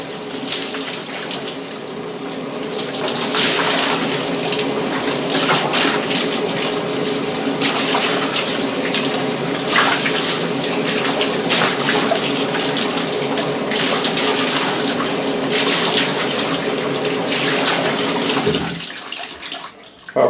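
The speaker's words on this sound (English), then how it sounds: "This is the third rinse and it's looking fairly clear now. So I'm going to do this and allow it to overflow." Water pours and overflows steadily from a DIY off-grid camping clothes washer during a rinse, a continuous close splashing gush that cuts off near the end.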